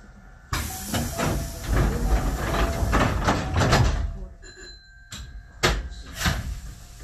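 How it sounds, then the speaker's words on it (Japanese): Doors on a Japanese train at Kobayashi station close with a loud pneumatic hiss and a rumbling slide, followed by a pause and then sharp clunks and further bursts of air as they seal, close by, with station speech nearby. "ドアが閉まります。"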